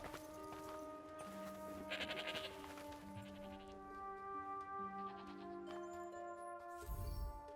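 Sheep bleat repeatedly in long wavering cries in the video game Forspoken, several animals overlapping at moderate distance, with some thuds and clatter near the end.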